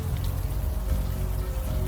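Steady rain falling in the video game Unavowed, a dense, constant patter of drops on surfaces with a low rumbling undertone, unbroken throughout.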